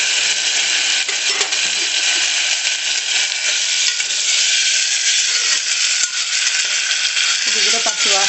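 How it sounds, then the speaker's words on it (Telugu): Ginger garlic paste frying in a pan, a bright continuous sizzle and hiss with scraping stirs and a few utensil clinks against the metal, close and loud, no one talking. "ఇప్పుడు మనం అల్లం వెల్లుల్లి పేస్ట్ వేసేద్దాము."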